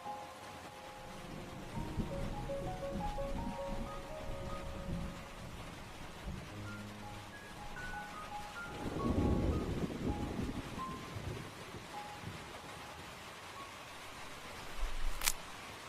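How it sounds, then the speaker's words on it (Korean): Cold winter rain falls as a soft, steady hiss, quiet and even throughout, with faint gentle musical tones drifting underneath. "겨울로 접어드는 차가운 비가 내리면서 도시엔 갑작스레 서글픔이 밀려들었다"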